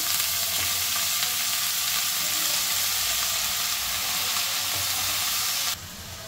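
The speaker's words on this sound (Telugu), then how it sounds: "సో ఇప్పుడు ఎర్ర తోటకూర వేస్తాము." Red amaranth leaves fry in a pan with onion, green chilli, garlic and turmeric, giving a loud, dense, continuous sizzle with faint stirring scrapes, close up and alone until it drops slightly near the end.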